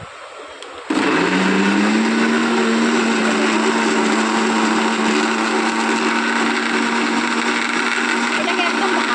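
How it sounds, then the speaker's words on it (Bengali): An electric mixer grinder switches on abruptly and grinds chutney, a loud, steady whirring motor hum with a high whine that holds for the rest of the clip; no talk over it. "তো আমি এটাকে ভালো করে মিক্সিতে বেটে নিচ্ছি"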